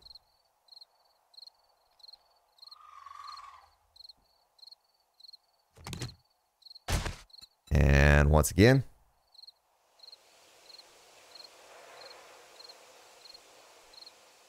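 Video game crickets chirp in a steady, evenly spaced rhythm in 7 Days to Die while loud clunks and a whirring mechanical slide cut in, then a soft rush of wind settles underneath; a voice briefly speaks.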